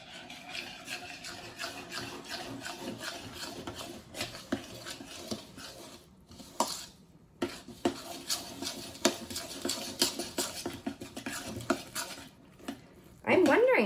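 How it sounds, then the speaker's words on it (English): A matzah ball mixture with sprinkled lemon pepper being stirred in a bowl, giving a run of scraping, clinking strokes against the bowl. The sound breaks off briefly partway through, and a louder burst comes in at the very end. "So I'm just gonna sprinkle some in. And then we're gonna stir this up."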